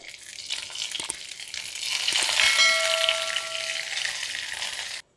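Hot mustard tempering with dried red chillies and curry leaves poured into a Kerala-style ripe mango curry, a loud sizzle that swells and crackles for several seconds before cutting off abruptly, close and with no talking.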